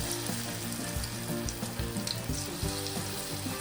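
Green pea bondas being dropped one by one into hot oil, frying with a steady, dense close sizzle and bubbling throughout, with no talking.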